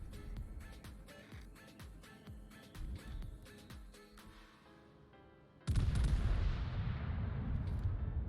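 Heavy battleship guns firing in a naval video game, a French Tier 6 Dunkerque in a clan battle, with a rapid series of booming salvos followed by a sudden loud, sustained roar of gunfire and rumble.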